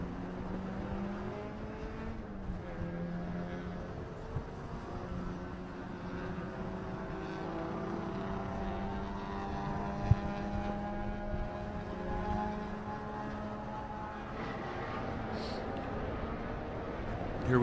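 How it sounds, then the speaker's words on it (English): Race cars lap Circuit of the Americas on warm-up laps during a time-attack event, a steady engine drone from several cars that rises and falls as they pass at middle distance, with a commentator talking faintly. "Here we have guys coming around for their warm-up laps"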